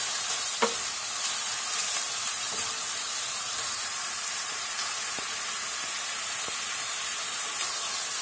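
Minced garlic sizzles in a pan with onion and peppers for moussaka, a steady bright frying hiss with a few soft stirring knocks, no voices.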